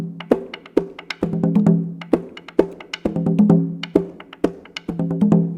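Perico ripiao, the rural folkloric merengue rhythm, played as a steady, bouncy pattern with sharp percussive attacks over a recurring low bass figure, lively and close.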